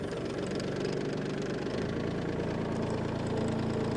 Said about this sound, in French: On va mettre le tracteur en route